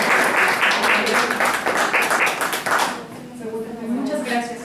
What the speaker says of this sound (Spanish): Te digo, aplausos.